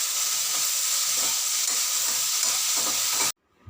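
Vegetable curry frying in a home kitchen pan, a loud, steady sizzle and hiss with faint scraping strokes of stirring, cutting off abruptly near the end.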